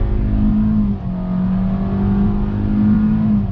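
A 2020 Hyundai Venue's naturally aspirated 1.6 liter engine drones loudly as it accelerates, a steady hum that dips briefly near the one-second mark and then climbs again, heard alone from inside the cabin.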